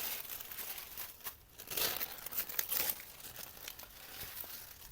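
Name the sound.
cutting and handling transparent gel papers for a collage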